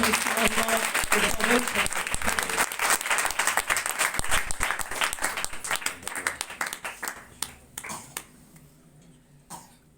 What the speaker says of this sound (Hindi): ऐ पिता, पुत्र, पवित्र आत्मा के लिए जोरदार ताली मारकर